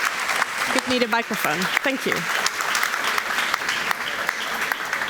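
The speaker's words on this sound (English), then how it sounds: "Please give him a warm applause." Audience applause continues in a lecture hall at the close of an evening with a guest author, a dense clapping wash running throughout while someone speaks briefly near the start.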